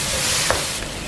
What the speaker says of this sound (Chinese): 把肉丁点香，炒出一点油，加姜末、蒜末、洋葱末炒香